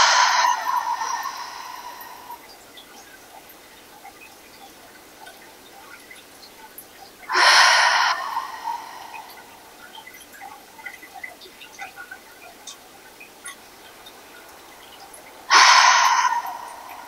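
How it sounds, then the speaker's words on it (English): Three slow breaths through the nose and out the mouth during a standing yoga stretching session, each a loud, airy broadband exhale several seconds apart, the first fading over about two seconds, with quiet between them. "Breathe in through the nostrils and out through the mouth."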